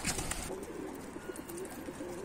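Pigeons coo softly and repeatedly at close range, with faint rustling and low background noise.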